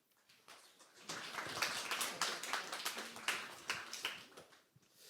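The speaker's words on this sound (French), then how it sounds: "On va encore les applaudir." Audience clapping at a Deeptech Tour startup event in Paris, starting sparse, then swelling into a brisk round of many hands before tapering off, with no talking.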